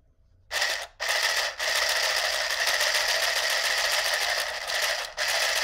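An $8 handheld sewing machine stitches fabric with a fast, buzzing mechanical chatter that starts after a short quiet, stops briefly twice near the start and once more near the end, then carries on close up.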